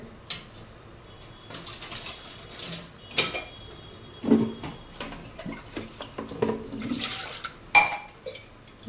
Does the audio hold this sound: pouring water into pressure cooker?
yes